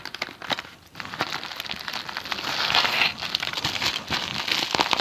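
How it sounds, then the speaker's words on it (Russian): Paper wrapping on an AliExpress parcel is torn and crinkled nearby, giving a steady, crackly rustle with short ripping bursts that continue throughout. "бумажку я надорвала"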